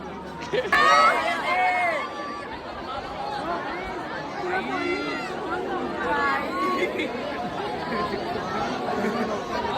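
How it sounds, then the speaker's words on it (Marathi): Dense crowd at Lalbaugcha Raja, a steady babble of many overlapping voices close all around, with shouts and calls rising above the continuous hubbub. "पक्का गर्दी आहे पक्का गर्दी"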